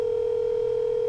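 A steady phone dial tone hums during a call in a realistic hood-themed video game, a single unbroken tone held evenly for about a second.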